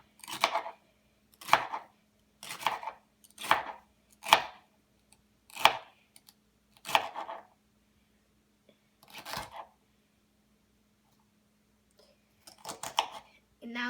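A knife chops through celery on a cutting board while making chicken noodle soup, about a dozen crisp, close thunks in a steady rhythm with a few short pauses and a quick cluster near the end.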